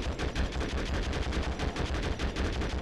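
Rapid automatic gunfire in the PS2 video game Conflict: Desert Storm II, a dense, loud, continuous burst of shots lasting about three seconds with no pauses.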